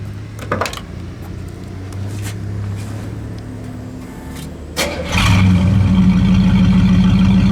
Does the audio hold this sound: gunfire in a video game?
no